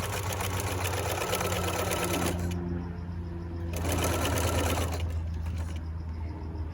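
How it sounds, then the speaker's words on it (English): A sewing machine sews a lapped zipper, running loud and close in a continuous drone, with a brief slowdown in the middle before speeding up again. "You don't want to sew too close to the edge."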